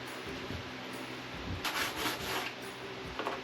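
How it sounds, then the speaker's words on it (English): Hand sanding on a body part of a 1987 Jeep Wrangler, a steady close scraping rub with a few brighter strokes in the middle and near the end. "So it's all hand sanding in here."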